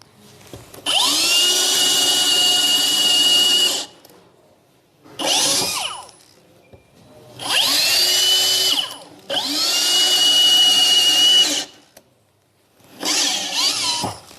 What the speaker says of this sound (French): Donc là, je passe ici pour percer. Donc je suis en vitesse, ici, vitesse 1.